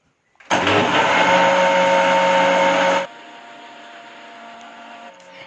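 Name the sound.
blender blending an oats and milk smoothie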